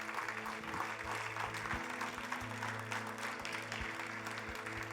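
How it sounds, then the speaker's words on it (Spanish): A church congregation applauds children and their teachers with steady, continuous clapping that fills the whole stretch, while sustained low tones hum underneath. "¿Por qué no les damos un fuerte aplauso a ellos?"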